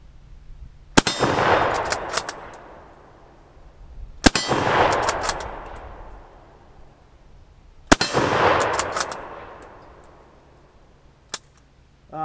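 A rifle at an outdoor gun range, loaded from a stripper clip, fires three loud sharp shots a few seconds apart. Each crack rings out into a long fading echo, with small metallic clicks of the action between shots and no talk.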